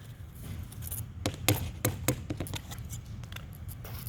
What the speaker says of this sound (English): when you cut the Velcro, you want to also cut through the backing.